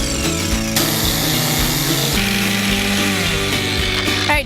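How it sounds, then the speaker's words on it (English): A jigsaw cuts a freehand Christmas tree shape out of a wooden board, giving a loud, steady buzzing rasp that runs the whole way through with small shifts in pitch as the blade moves along the cut. "We're going to use a jigsaw."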